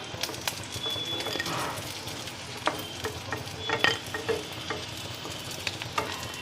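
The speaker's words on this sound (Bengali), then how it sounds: "একইভাবে বাকি মাছগুলো ভেজে নেব।" Fish pieces fry in hot oil in a kadai for chilli fish, a steady close sizzle broken by sharp clinks and scrapes of a utensil turning them.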